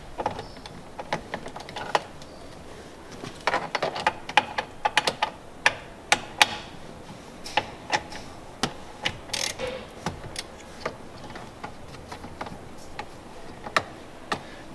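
Two side screws being removed from a Hyundai Santa Fe 3.3 steering wheel during an airbag replacement, heard as sparse, sharp, close mechanical clicks and ticks, like a ratchet or driver, spaced irregularly over a quiet background.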